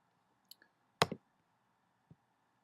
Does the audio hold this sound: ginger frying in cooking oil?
no